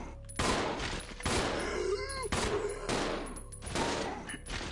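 Rapid handgun fire from two pistols at once in the survival horror game Resident Evil 0, a dense loud burst of overlapping shots with a few brief pauses, set against tense game ambience.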